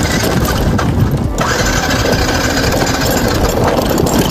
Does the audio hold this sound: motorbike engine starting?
yes